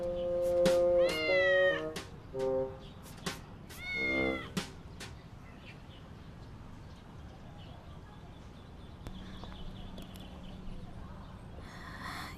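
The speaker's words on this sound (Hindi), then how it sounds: "ये तो बस प्यारी सी बिल्ली है।" Cat meowing, several close, drawn-out meows in quick succession over the first few seconds, then a quiet stretch with faint background noise.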